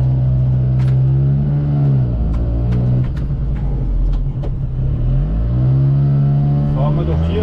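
Small Piaggio Ape 50 three-wheeler engine droning steadily while driving on a spring cherry-blossom tour, a loud continuous buzzing hum with slight pitch dips and rises, up close throughout.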